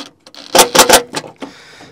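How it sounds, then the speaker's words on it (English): A drill drives metal self-tapping screws to attach a box, giving a couple of short, loud, close whirring bursts lasting about a second. "I'm just using some metal self-tapping screws to attach this box."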